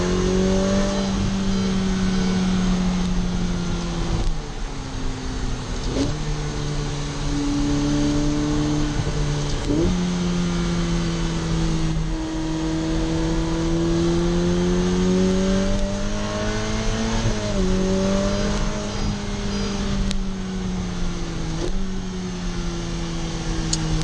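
A 2023 Ferrari F8 Spider in a racing video game accelerates hard, its engine note rising steadily and dropping sharply at each gear shift several times, loud and continuous with no talk.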